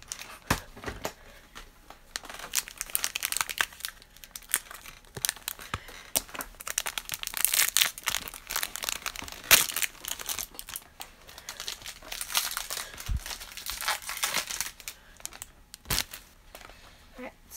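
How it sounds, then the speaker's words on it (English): Trading card packs are torn open by hand, with repeated crinkling foil wrappers and sharp ripping bursts, close and fairly quiet, with brief bits of voice in between. "we're gonna rip these two"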